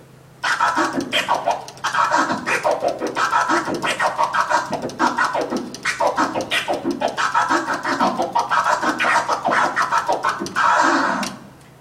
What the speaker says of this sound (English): That's the transform scratch.